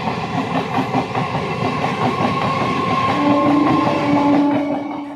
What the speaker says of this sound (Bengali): আর এই দেখো ট্রেন যাচ্ছে।